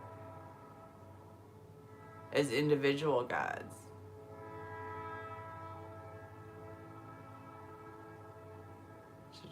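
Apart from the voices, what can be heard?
train and train horn in a played video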